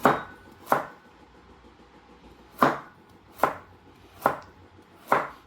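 Knife slicing carrot thinly for gimbap, six crisp chops landing on a cutting board in an uneven rhythm, close and distinct against a quiet background.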